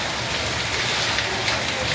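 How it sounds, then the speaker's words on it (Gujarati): Steady, fairly heavy rain falls on a soybean farm, a dense continuous hiss that stays even throughout with no distinct drops standing out. "અત્યારે થોડોક સારો વરસાદ આવે છે"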